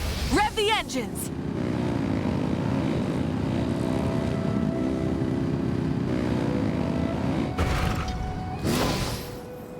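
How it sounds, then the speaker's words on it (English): A loud engine roar in Genshin Impact, like a propeller aircraft, swells and holds steady for several seconds, with a short pitch-sweeping burst at the start and brief bursts near the end. "Rev the engines!"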